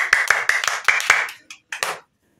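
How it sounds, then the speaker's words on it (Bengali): Several people clap in a short burst of about six quick, close claps, then a brief pause and a couple more claps, all loud and near with no talking. "গুড, হাততালি।"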